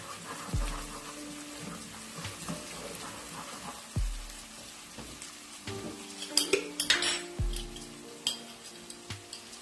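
Red chilli powder and turmeric being stirred into hot oil in a pan for Pakistani kadhi pakora: a spoon scrapes and taps the metal intermittently over a faint, soft sizzle, with no voices.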